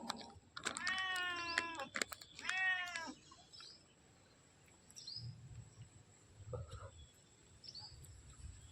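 A cat meows repeatedly in two close, clear bursts while being offered milk at home, followed by fainter scattered rustles and small sounds with some soft background chirps.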